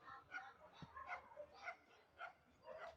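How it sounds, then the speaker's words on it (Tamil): A dog barks repeatedly nearby, a series of short yelping barks spaced through the moment, fairly faint against a quiet background. "பக்கத்தில் ஏதோ நாய் கொலைக்காதெல்லாம் கண்டுக்காதீங்க."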